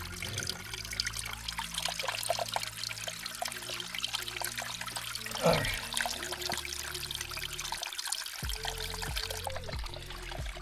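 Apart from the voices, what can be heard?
water trickling from a small water source into a container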